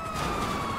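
Police car siren in the video game GTA 5, a steady wailing tone sounding loud and close throughout a short moment with no talk over it.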